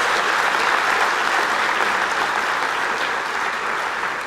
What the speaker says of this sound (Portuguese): Uma salva de palmas para esse pessoal incrível aqui